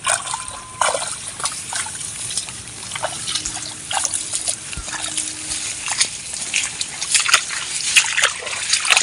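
Someone wades through knee-deep water and mud in a flooded jute field near a pond, producing steady close sloshing, trickling and splashing that continues throughout.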